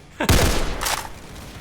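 Gunfire from a Roblox CS:GO-style shooter game, a loud burst of several rapid shots that kicks in suddenly and then rings out and fades over the next second.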